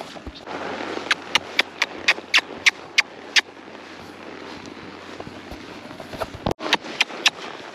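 Horse hooves clip-clop in a steady rhythm outdoors around a cattle operation, about ten crisp close strikes with a brief clatter near the end, set against light wind noise.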